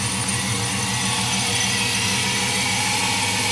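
A 1999 Dodge Ram 1500 Quad Cab engine idling through a catalytic converter and a single-in, dual-outlet Flowmaster exhaust, a smooth, steady, close rumble with no talk over it.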